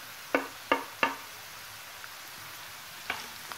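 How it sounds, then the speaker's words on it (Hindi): Capsicum fries in a pan for vegetable pasta, a faint soft sizzle in the background punctuated by a few sharp clicks of a stirring utensil against the pan. "फ्राई हो जाएगी ये भी इसके साथ।"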